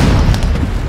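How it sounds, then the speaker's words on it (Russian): A mine blows up in the artillery game Worms, a loud, dense boom that fills the whole second with rumbling low-end blast and debris crackle, no voices over it. "Давай, мину активируй и взорвись."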